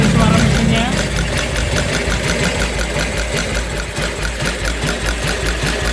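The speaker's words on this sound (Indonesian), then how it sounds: "Ini untuk suara mesinnya." A 1952 BSA 350cc motorcycle engine idles close by with a loud, rapid, even thumping beat that runs steadily throughout, while someone speaks over it.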